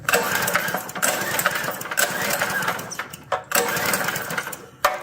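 A motorbike engine is being turned over with no spark plug fitted and a dry cylinder. It gives a fast, rattling mechanical whirr in several bursts separated by brief pauses, heard close with no talking.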